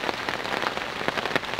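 A downpour hammers down beside a river where someone is fishing, a steady close roar of drops spattering on surfaces, unbroken and with no voices.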